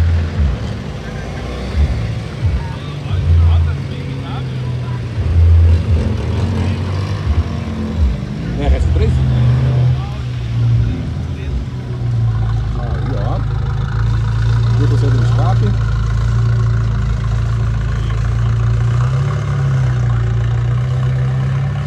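Idling car engines rumble at a car meet in a town square, including a small Porsche replica and a two-stroke GT, with a low steady drone and occasional revs while people talk nearby.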